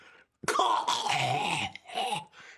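A person imitates a cough with rough, throaty bursts, a few short hacking sounds close to the mic, with brief pauses between them.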